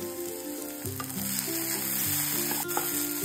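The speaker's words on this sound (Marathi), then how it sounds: "वरून ना 2 हिरव्या मिरच्या टाकूयात।" Green chillies dropped into hot oil for sabudana khichdi give a steady, close sizzle and crackle that continues throughout, with no talking.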